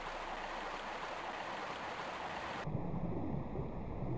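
Steady broadband rushing of a river current in Tomb Raider Remastered, continuous and fairly loud with no voices, the tone abruptly dulling partway through as if going underwater.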